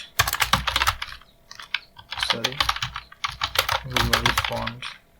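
Rapid clicking of keys on a computer keyboard as a search is typed, with bursts of keystrokes separated by short pauses and a voice talking over parts of it.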